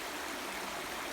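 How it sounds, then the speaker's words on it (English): River water flowing in a steady, even rush, close and continuous, with no voices over it. "So this is the river. The water is flowing."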